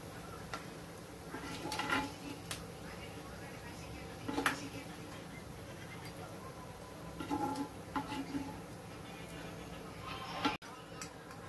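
Prawns frying in a pan for a Burmese balichao recipe: intermittent metallic clinks and scrapes of a utensil stirring against the pan over a faint sizzle, while someone talks.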